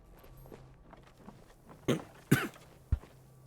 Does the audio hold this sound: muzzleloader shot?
no